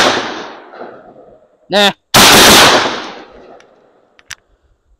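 Shotgun loaded with buckshot fired outdoors at a steel plate about 110 yards away: one blast tails off at the start, then a second loud, sharp blast with a long decay. A brief voice comes between them, and faint ticks follow.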